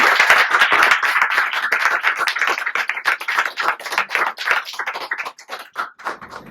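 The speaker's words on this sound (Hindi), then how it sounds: "इनके लिए जोरदार तालियां।" A seated audience gives sustained, dense clapping for a meditation event at Narayan Dhyaan Kender in Kaithal, loud and steady at first, then thinning into looser, more scattered claps toward the end, with no talking over it.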